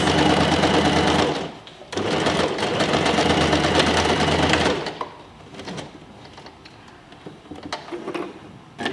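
A sewing machine runs a reverse or lock stitch over the overlap of an envelope-style cushion cover, loud continuous whirring in two bursts with a short pause between, then quieter handling sounds.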